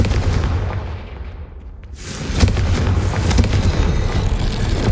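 A Confringo spell blast in the Hogwarts Legacy game lands as a loud booming explosion, followed by a brief dip and then a sustained roaring, crackling rumble of fire and debris, all close and heavy.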